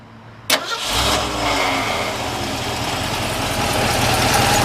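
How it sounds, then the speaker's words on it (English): A 1967 Ford Bronco U-100 4x4 engine cranks with a sharp burst and catches, then settles into a loud, steady idle through a new dual exhaust, close by with no talking. "we'll go ahead and fire this one up for you"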